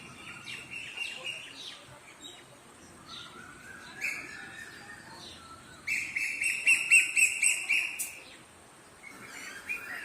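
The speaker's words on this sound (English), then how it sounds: "it's also because of the varieties of birds that keep chirping all around." Various birds, including a nightingale, chirp and trill at sunrise in Durgapur: scattered calls give way to a dense burst of rapid repeated whistles midway, with more calls near and far.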